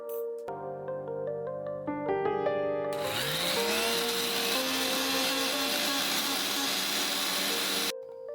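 Mixer grinder whirring as it crushes ingredients, a loud steady motor whine that kicks in partway through and runs for several seconds before stopping, with music at the start.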